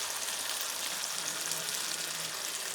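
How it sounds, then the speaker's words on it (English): Food frying in a carbon steel frying pan over an outdoor camp fire, a steady, faint, even sizzle and hiss that runs without a break, with no talk over it. "Still got some more frying to do."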